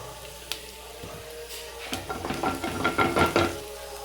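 Chopped ginger, garlic cloves and asafoetida fry in hot oil in a pan, a soft steady sizzle with scraping stirs and light metal clinks growing busier toward the end.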